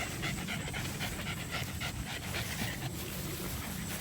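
Dog panting rapidly and rhythmically close by, a steady run of quick breathy huffs lasting the whole stretch with no talking.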